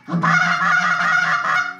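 One long, loud honking call from a handheld goose call, nasal and steady, sounding close and alone against silence.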